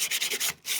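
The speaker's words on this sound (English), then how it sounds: "So just get a piece of sandpaper." A metal measuring tool burnished with 100 grit sandpaper, quick rhythmic back-and-forth rasping strokes up close, about five passes with a short pause near the end.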